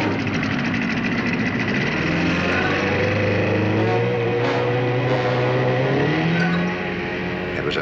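A fast outboard motor on a search boat drones steadily up close, with a loud continuous engine tone whose pitch slowly rises and dips, running alone without voices.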